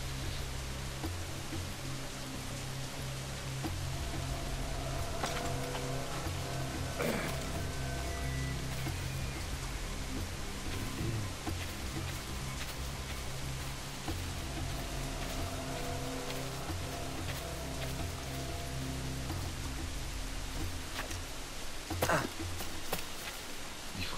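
Steady rain falls in the pirate-era open world of Assassin's Creed Black Flag, a constant dense hiss with a low rumbling bed that carries on evenly throughout, with occasional faint louder drops.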